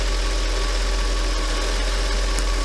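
A Mercedes 500E W124 V8 with 152,000 miles idles steadily after starting, a continuous low rumble heard close up and alone.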